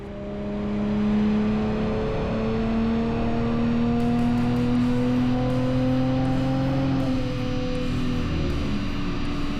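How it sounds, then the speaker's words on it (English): An Audi RS5 fitted with custom turbos runs a fifth-gear dyno pull, its engine drone climbing steadily in pitch as it loads up, loud and close, with faint clicks and chatter near the top of the run. "this is a 5th gear pull"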